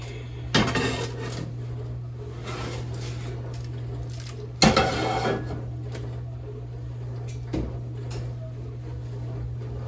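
Sourdough loaves in metal pans lifted from an oven, with a few sharp clanks and clatters of pans against racks, separated by quiet stretches over a steady low hum.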